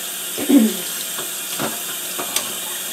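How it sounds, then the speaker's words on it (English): Tap water runs briefly over food being rinsed in a kitchen sink while making chili, a short splashing burst followed by a few fainter trickles and drips, close and moderately loud with no talking. "And then I'm just going to give it a quick rinse."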